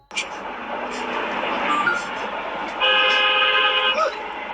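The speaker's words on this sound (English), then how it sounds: "Someone honking at you?" A car horn honks in traffic on the road, a sustained blaring toot that swells in the second half over steady engine and road noise, with no talk.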